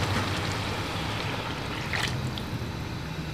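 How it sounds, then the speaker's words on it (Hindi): Water poured from a jug into a pot of mutton karahi, a steady watery rush with a brief brighter splash near the middle, close and alone with no talk. "मैं इसमें 4 glass यानी कि 1 jug पानी का शामिल कर रही हूँ।"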